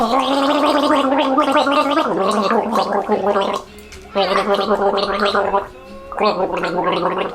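A man gargles loudly in a recording studio while trying to sing for a song, producing voiced, bubbling bursts in three long stretches with brief breaks between them.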